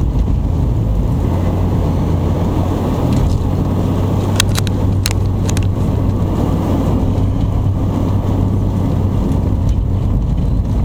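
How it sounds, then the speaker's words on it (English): Strong wind roars steadily around a car driving through a snow storm on an open county road in Redgranite, Wisconsin, mixed with low road and engine rumble and a few brief sharp knocks midway. "The wind's starting to pick up."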